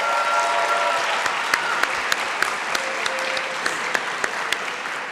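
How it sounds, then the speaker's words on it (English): Sustained applause from an audience at a FIRST Robotics Competition kickoff ceremony in Atlanta, welcoming rookie teams, with dense steady clapping and a few sharper claps and whoops standing out throughout. "If you're a rookie, stand so we can give you a huge applause."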